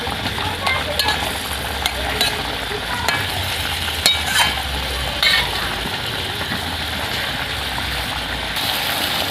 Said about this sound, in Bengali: এবারে আমি ভেজে রাখা মাছটা দিয়ে সেদ্ধ করে নেব